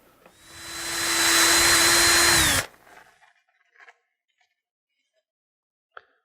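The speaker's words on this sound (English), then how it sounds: "We'll go ahead and do a quick ream on that." A power reamer bores out a carbon fiber rod grip in a short, steady whine of about two and a half seconds that cuts off abruptly, followed by a few faint handling clicks and knocks.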